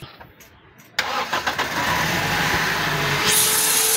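A Toyota Vios engine cranks and catches after a short lull, then runs with an uneven, pulsing idle, close and loud, with a high whine rising near the end.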